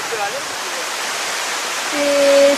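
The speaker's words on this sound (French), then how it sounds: "des grandes cascades comme ça, entourées de tant de verdure, c'est vraiment super." Large waterfall in the lush green Fouta Djallon highlands of Guinea, heard as a steady broad roar of falling water, with faint tonal sounds drifting over it near the end.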